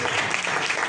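Brief, moderately quiet wash of audience applause, steady and continuous for under a second.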